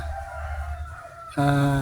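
A rooster suddenly breaks into a loud, close crow near the end, a rich harmonic call cutting in sharply over quieter rustling background noise.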